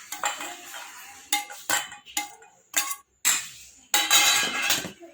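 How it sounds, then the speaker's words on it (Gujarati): A spoon stirs besan batter with ginger, onion and tomato paste in a bowl, giving close, clear bursts of scraping and clinking at an uneven rhythm, with no talking. "મિક્સ કરી લઈશું આપણે"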